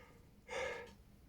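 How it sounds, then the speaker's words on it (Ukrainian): A person gives a short, quiet, breathy yawn-like exhale, lasting under half a second in an otherwise quiet room, with no speech. "Ой, позіхаю."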